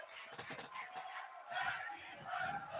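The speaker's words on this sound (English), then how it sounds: "Tag team wrestling chant here from this sold out crowd here at WreSIMania" A sold-out wrestling crowd chants in rhythm during a tag team match, the voices blending into a distant, swelling roar with a commentator talking over it.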